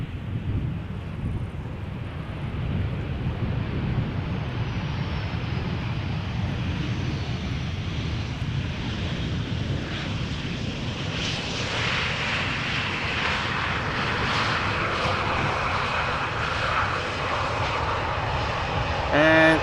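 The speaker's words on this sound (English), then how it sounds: "Corendon Airlines arriving from Ibiza." A Corendon Airlines Boeing 737-800 arriving at Amsterdam Schiphol from Ibiza gives a sustained jet engine roar mixed with wind noise, swelling slightly louder and brighter in the later seconds.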